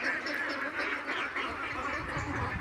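A flock of ducks being raised on a farm, with steady overlapping quacking and honking that carries on without a break at moderate volume, close by and not loud.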